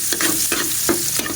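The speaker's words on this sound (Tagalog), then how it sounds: "Diyan na natin siya igisa sa pinagprituhan." Garlic and onion sautéing in leftover fish-frying oil, sizzling steadily with a utensil stirring in a few distinct scrapes and bursts, close and clear without talk.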